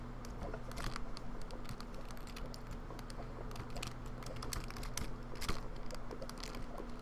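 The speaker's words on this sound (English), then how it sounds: "Sorry if you can hear me clicking my keyboard" Rapid clicking on a computer keyboard placed close to a microphone during a Minecraft session, a dense, steady patter of light keystrokes running throughout with a faint electrical hum beneath and no talking.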